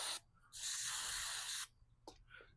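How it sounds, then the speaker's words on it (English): Brake cleaner sprayed in a steady hiss onto the spark plug of a 1984 Yamaha Virago motorcycle, a short burst then one long continuous blast of about a second, followed by a couple of brief faint spurts. "some brake clean, and just spray the plug down."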